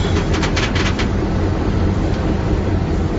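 A runaway freight train rolls along the rails, a loud continuous rumble and roar with faint clicking in the opening second, steady and close throughout.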